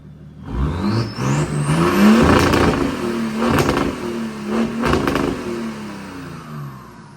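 A large BMW M57 diesel engine in a Nissan Patrol Y61 revs up and settles, rising whine and deep rumble, close by and loud, with a few clattering bursts as the throttle blips.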